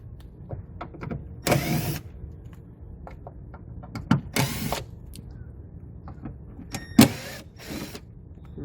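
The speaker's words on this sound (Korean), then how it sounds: "볼트 세 개를 풀러줍니다" Taillight bolts on a Hyundai Starex are being loosened, giving three short bursts of whirring, ratchet-like rasps. Scattered light clicks and taps from handling parts fill the gaps, all close and moderately loud.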